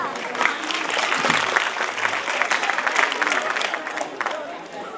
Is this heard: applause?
yes